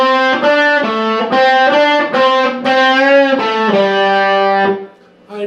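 Distorted electric guitar plays a lick: a steady run of bent and caught notes, loud and close, with a short pause near the end before picking up again.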